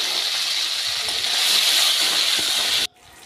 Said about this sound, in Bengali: টমেটোটা একটু লাল লাল করে ভাজা হবে।